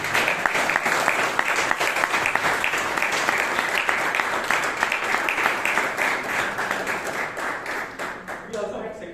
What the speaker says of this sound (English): Can you give a loud applause to President?